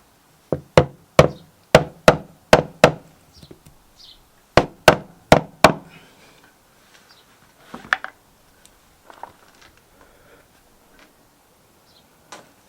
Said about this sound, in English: I'm just going to try with a little hammer just to see if it will locate